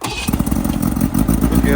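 A motorcycle engine cranks and fires into a loud, close, rumbling idle, with a voice briefly over the start.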